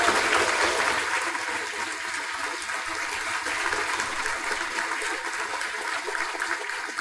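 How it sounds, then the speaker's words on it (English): A banquet audience in an Airport Marriott function room applauds the hotel staff, a soft, distant, hissing wash of many hands clapping that holds steady for several seconds. "I think it's worth a round of applause for the staff here at the Airport Marriott who have been helping us out"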